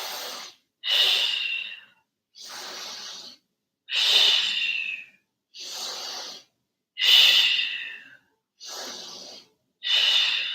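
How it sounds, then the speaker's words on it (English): Deep, rhythmic yoga breathing alternates slow inhales and exhales about eight times, each a breathy rush of air separated by short silences, close and clear with no talking over it. "Inhale and exhale. Inhale, exhale."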